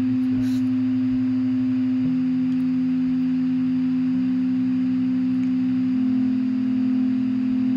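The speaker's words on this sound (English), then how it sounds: "the sine wave." A steady, loud synthesized sine tone holds throughout, stepping down in pitch a few times in distinct stages, with faint background hiss and no talking.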